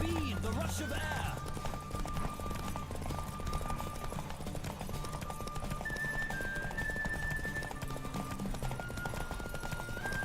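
Hooves drum steadily as a horse gallops in a race in the video game The Witcher 3, with a brief whinny at the start and a voice talking over the rhythmic clip-clop.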